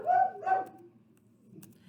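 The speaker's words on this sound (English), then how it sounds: "Sorry about the dogs." Dogs barking in a home, two quick sharp barks close by, then quiet with faint low background noise.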